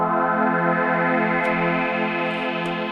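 A sustained, harmonically rich pad from a Sonicware Liven Ambient Ø synthesizer, a steady chord drone with slow shimmering modulation and a couple of faint clicks, loud and continuous for three seconds.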